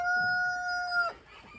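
A molting hen in a family greenhouse gives a loud, sustained call with steady tonal lines for about a second, then softer scattered clucks and rustling follow close by.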